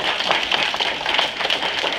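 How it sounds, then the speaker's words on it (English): Audience applause at a live comedy show, a dense, steady wash of many hands clapping close by for about two seconds without letup. "Can you give everybody a round of applause, please?"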